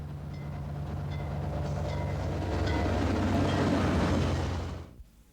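MBTA Boston commuter FP10 diesel locomotive, a former Gulf Mobile and Ohio F3 rebuilt by Illinois Central Gulf, running with a loud, steady low engine drone that swells slightly before cutting off abruptly at the end.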